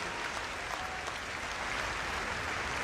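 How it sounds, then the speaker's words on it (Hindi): Dense, sustained applause from a large audience at the inauguration of a 2600-bed hospital in Faridabad, a steady wash of many hands clapping with no pauses. "आपकी हाथ की करतल ध्वनि ने इस पूरे वातावरण को स्पंदित कर दिया"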